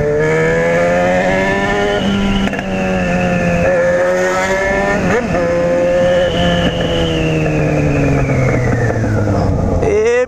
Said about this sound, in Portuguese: Os estalos que dá no escapamento, tá maluco?